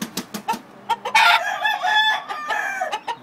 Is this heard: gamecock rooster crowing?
yes